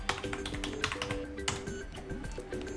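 Keys clicking on an Acer Predator 17 laptop keyboard: a steady run of close, crisp taps and presses, fairly loud and alone, with no talking.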